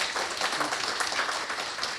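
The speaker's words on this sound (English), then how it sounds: "Big round of applause." Brief burst of audience applause at a lunch gathering, many hands clapping in a continuous, fairly close wash with no talk.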